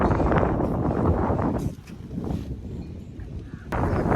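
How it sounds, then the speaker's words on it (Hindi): Wind blowing outdoors at a brick kiln, a steady broadband rush that stays loud throughout with gusty swells and a brief lull in the middle. "आज से मौसम चेंज हो रहा लगता है, हवा चल रही है सुबह से"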